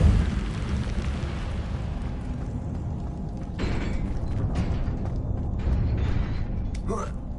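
The Incendio fire spell is cast in the Hogwarts Legacy video game: a rumbling whoosh of flame bursts at the start and again midway, over a low background roar, with a voice chirping briefly near the end.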